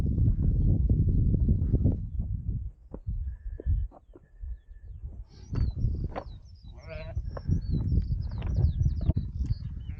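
Sheep bleat close by on a windy Lake District fell, over heavy wind rumble, with a few wavering calls in the middle and faint bird chirps high above.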